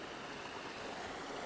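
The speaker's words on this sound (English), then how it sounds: "So I heard a waterfall." A waterfall on an autumn ascent in Borrowdale in the Lake District makes a steady broadband rush of falling water, continuous and even, with nothing else standing out.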